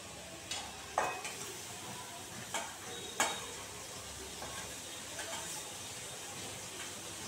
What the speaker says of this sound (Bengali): এবার এই কাচকি মাছটাকে একটু ভেজে দেবো হালকা করে।